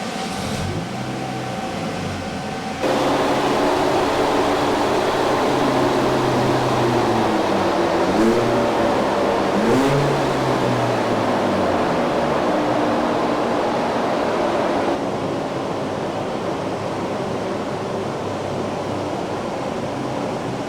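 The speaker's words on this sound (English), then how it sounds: "Start up the fan, obviously, like we said, we don't want the car to get too hot." A loud, steady mechanical whir of a large cooling fan running by a Mini continues with a droning hum, shifting slightly in tone partway through; no talking.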